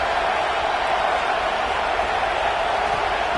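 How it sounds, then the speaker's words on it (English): A stadium crowd at a playoff football game makes a constant, dense roar of cheering and crowd noise, steady and loud throughout with no break. "Listen to the crowd energy here in the early going."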